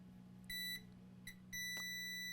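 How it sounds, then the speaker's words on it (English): Short electronic beeps from a multimeter in diode mode testing for a short on an ASUS TUF Gaming A15 laptop: two brief tones, then a sustained steady beep, over a low constant hum. "And are you ready to hear the beep?"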